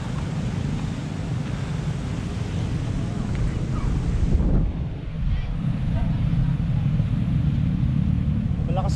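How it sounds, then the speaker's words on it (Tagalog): Strong river current rushing past at close range, a loud continuous broadband wash of water mixed with wind buffeting the microphone, steady for the whole stretch with a brief surge midway. "Ang lakas ng agos ng tubig, oh."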